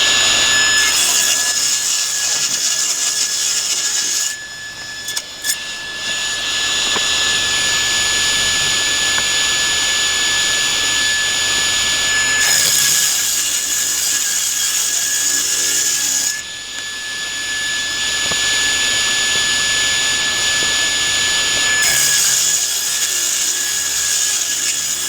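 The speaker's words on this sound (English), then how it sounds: "two short boards here need to be cut to 3 inches wide. And since I still have the saw set up for 3 inches wide, I can go ahead and make that cut now" Power saw ripping Baltic birch plywood boards to 3 inches wide, a loud, continuous whine with harsh cutting noise that dips briefly between passes and resumes, close and alone without talk.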